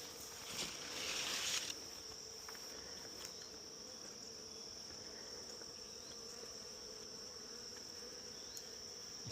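Honeybees swarm and drone around an opened hive as frames are swapped and the colony grows agitated. A dense, steady buzzing persists throughout, swelling louder for the first two seconds with a few faint knocks.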